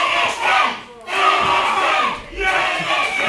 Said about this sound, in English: The crowd are calling for him to finish him.